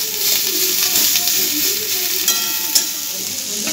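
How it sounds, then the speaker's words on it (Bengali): Chopped onions frying in a pan for homemade egg rolls, a steady close sizzle with stirring scrapes and small crackles throughout, no voices. "পেঁয়াজগুলো ভাজা হয়ে গেছে"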